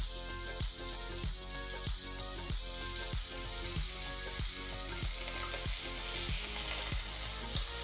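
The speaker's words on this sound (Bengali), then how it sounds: "এবারে ওই পিঠটা আবার ভালো করে এরকম সোনালি রং করে ভেজে নিচ্ছি" Fish oil fritters fry in hot oil in a pan as each one is turned to brown on the other side. A steady, loud sizzle runs throughout, broken by a regular series of short clicks.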